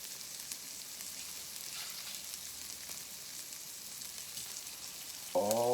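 Purple potato pancakes fry in a pan with a steady, close sizzle and faint crackling that carries on evenly throughout.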